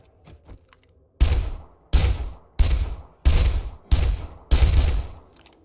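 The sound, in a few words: gunshots at a bear in video game 7 Days to Die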